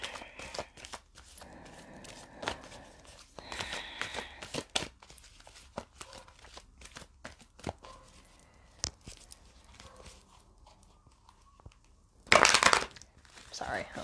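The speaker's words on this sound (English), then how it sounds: "Sorry, that was a loud shuffle." Tarot cards are shuffled in scattered soft riffles and rustles under quiet background sound, ending in one loud, sharp burst of shuffling near the end.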